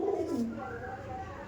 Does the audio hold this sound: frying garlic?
no